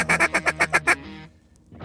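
Ducks quacking during a waterfowl hunt on the Colorado Front Range, a rapid run of about seven loud, close quacks followed by a quiet pause and faint rustling.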